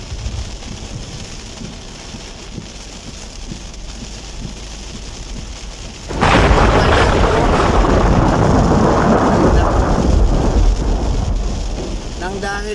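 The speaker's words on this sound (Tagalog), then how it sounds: "Magdamag ulan, supra lakas." Heavy overnight rain pours down, with a sudden thunderous surge midway that swells into a loud, dense roar of downpour lasting to the end; no talking.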